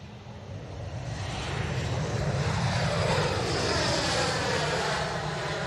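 An EasyJet airliner at Manchester Airport, a steady, loud engine roar that swells slightly and holds throughout, broad and rushing with no talk over it.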